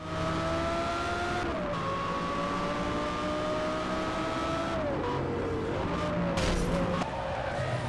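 A Porsche engine in a Need for Speed video game revs and shifts through gears, pitch climbing and dropping with each change, joined by tire squeal near the end; loud and continuous.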